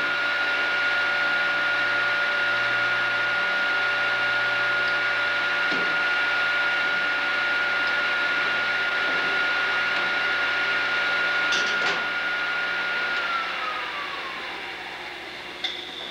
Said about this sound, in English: this is how most cutter grinders sharpen roughers